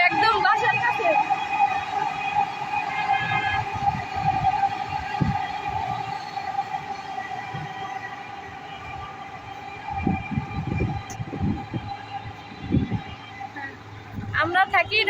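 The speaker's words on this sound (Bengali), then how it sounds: "ওই দেখুন মেট্রো রেল, মেট্রো রেল যাইতেছে একদম বাসার কাছে।" A metro rail train passes close to a house in Mirpur, Dhaka, giving off a steady rumble with a high whining tone through most of the clip. Some knocks and handling noises occur nearby.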